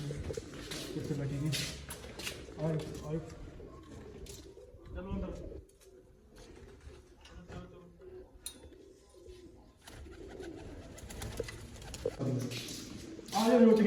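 Pigeons coo softly in the background, mixed with other bird chirps, while people talk nearby over low ambient noise.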